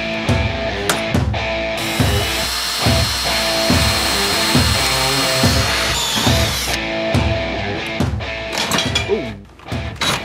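A power drill bores a hole in a 1/8 inch thick, 1 inch wide metal bar, with a loud rhythmic grinding that pulses as pressure is applied, close up and continuous.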